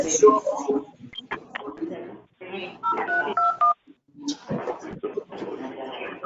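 Telephone dialing tones during a call-in to a Madison, Florida city council monument decision meeting, short steady beeps mixed in with people talking over the line.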